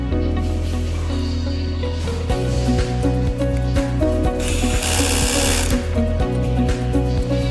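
A power tool drives screws into an MY500 LED display cabinet, whirring in several short, loud bursts close by, with a steady mechanical hum underneath.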